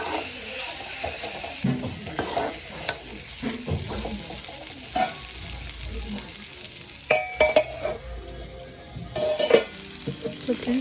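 Chili powder cooking in a hot pan, frying and sizzling steadily while a utensil stirs and scrapes through it, with occasional metallic clinks of cookware, close up and alone.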